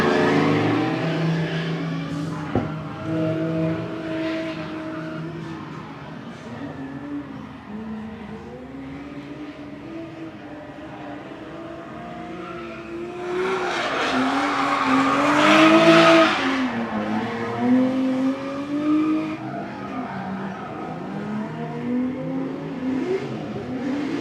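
A BMW drift car laps a track in Mexico, its engine revving and swinging in pitch while tires squeal, building to a louder, denser burst of tire screech and engine roar midway, with crowd ambience around it.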